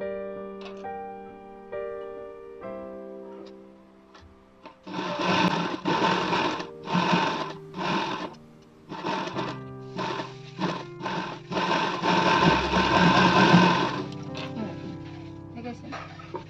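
A sewing machine stitches a princess-cut blouse in a run of short, loud, close bursts that build into one longer stretch of rapid whirring. Someone talks before and between the runs.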